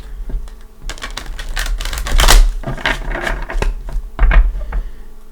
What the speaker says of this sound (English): I just shuffle and meditate on your sign. Shuffling is very relaxing to me.